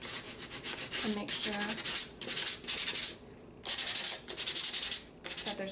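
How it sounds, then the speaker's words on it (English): Wooden notches on a handmade doll desk being gently sanded by hand: repeated rasping back-and-forth strokes in bursts with short pauses, close and fairly loud, while a person speaks briefly. "I'm just going to gently sand them."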